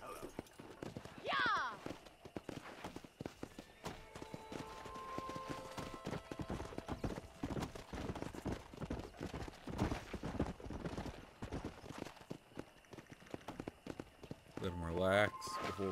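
Horse hooves galloping in Red Dead Redemption on a ranch, a steady rapid clip-clop running throughout, with whinny-like calls near the start and end and a voice talking over it.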